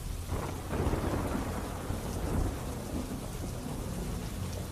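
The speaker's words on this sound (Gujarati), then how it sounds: "પવન સાથે વરસાદ આવતા વાતાવરણમાં ઠંડક પ્રસરી" Steady rain falls with wind, pattering densely on surfaces, while low rumbles of thunder roll underneath throughout. No voices are heard.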